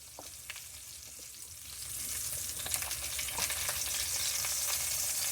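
Spare ribs fry in a home kitchen pot, a steady close sizzle with scattered crackles and pops that swells louder partway through and holds, with no voices over it.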